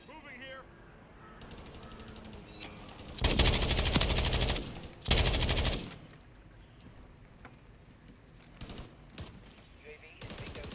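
A remote turret fires in Call of Duty Modern Warfare III, loud rapid automatic bursts in two long stretches, then scattered shots and gameplay noise, with radio-style voice callouts around them.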